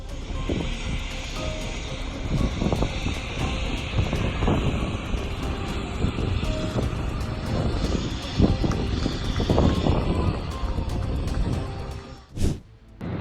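A small plane in trouble over Scottsdale Airport drones steadily with a fluctuating engine roar, loud and continuous, rising and falling before a brief sharp burst near the end.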